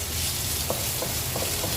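Ginger and garlic sauté in a spoonful of coconut oil in a pan, a steady close sizzle with a few soft stirring scrapes, no voices.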